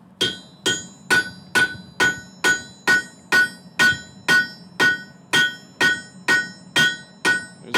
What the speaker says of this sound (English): There's a lot of ways to grip the hammer